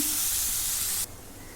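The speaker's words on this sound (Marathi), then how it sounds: "आता एक दोन मिनटं परतून घेते" Onion and ginger-garlic paste frying in a pan give off a loud, close, steady hissing sizzle that drops abruptly to a quieter crackle partway through.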